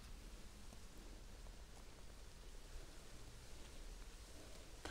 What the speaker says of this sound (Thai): เสียงฝนได้ยินไหมคะ